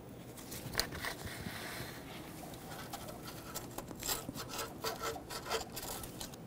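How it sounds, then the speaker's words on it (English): Sandpaper rubs back and forth over the upstream O2 sensor mounting point on a 2006-2012 Ford Fusion 3.0L V6, a close, rasping scrape in uneven strokes with no talking. "We'll use some sandpaper for that."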